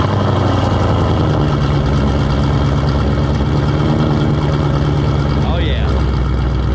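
A 2015 Mustang GT with a Whipple 3.0 supercharger, long-tube headers, X-pipe and cat-back exhaust idles loudly and steadily up close with a deep, continuous rumble while people talk over it.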